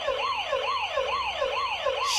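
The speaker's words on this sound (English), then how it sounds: "That sound gave me such a fright. There's a toy police car in here." A toy police car siren in the video game Mudlarks wails in a steady, rapid up-and-down cycle, about five sweeps over two seconds, loud and close with no voices.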